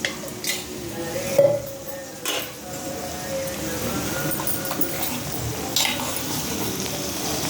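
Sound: oil heating in a pan

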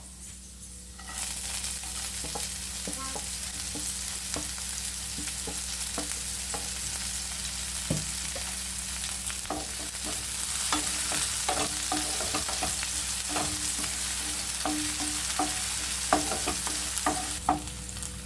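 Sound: green chillies sautéing in pan

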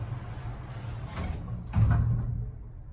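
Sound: Otis traction elevator doors opening and closing

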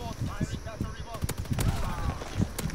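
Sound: artillery fire in a video game

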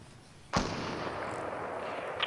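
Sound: gunfire in Fortnite video game

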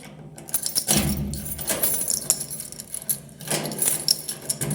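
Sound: keys jangling

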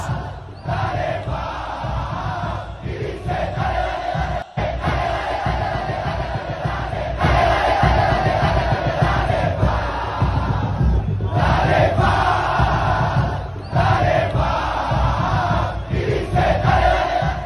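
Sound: stadium crowd cheering

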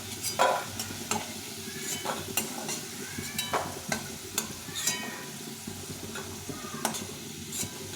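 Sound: potatoes frying in oil in a pan

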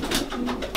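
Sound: pigeons cooing

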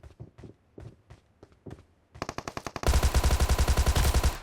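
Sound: gunfire in the video game PUBG Mobile

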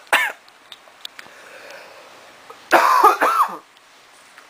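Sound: coughing fit

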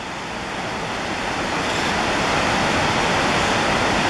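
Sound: trout stream flowing

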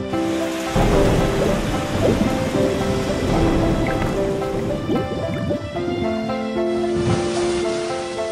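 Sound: stormy rain and thunder at sea

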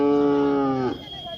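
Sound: Khillar bull mooing at cattle market

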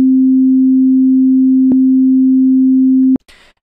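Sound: looping MIDI note played in Ableton

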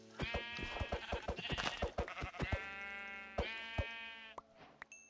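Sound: sheep bleating in Minecraft video game

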